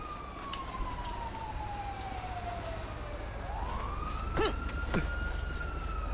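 Emergency vehicle sirens wail in GTA V, a long descending tone sliding down then rising again, with a second siren's sharp yelps joining near the end over a steady rumble of road and engine noise.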